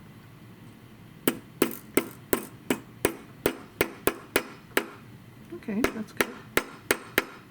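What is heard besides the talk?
planishing hammer tapping a metal cuff bracelet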